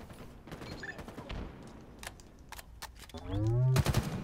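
Plasma pistol in a Halo game firing a few sharp, scattered shots amid other gunfire, with voices talking over the action and a louder burst near the end.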